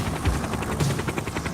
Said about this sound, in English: Tonight, we're taking to the skies on a helicopter patrol.